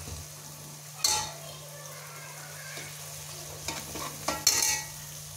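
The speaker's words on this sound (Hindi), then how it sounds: "अब आपने इसमें ये मोटा मसाला ऐड करना है, थोड़ा सा इसको ब्राउन कर लें इसके अंदर" Coarse masala browning in a pan for a black gram dal, a low, quiet sizzle broken by several sharp spoon scrapes and clinks against the pan, with no talk.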